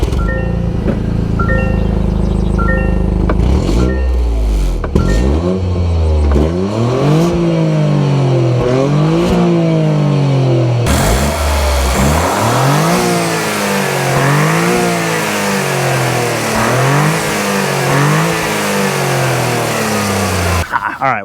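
A 2023 Toyota GR Corolla engine revs repeatedly through its exhaust, each rising roar falling back before the next, loud and close, with a sharper, brighter blast in the second half.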